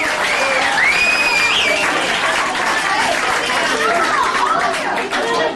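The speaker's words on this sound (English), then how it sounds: "a round of applause for the birthday boy" At a stage hypnosis comedy show, a crowd bursts into loud, sustained applause and cheering, with a few whoops rising over the clapping throughout.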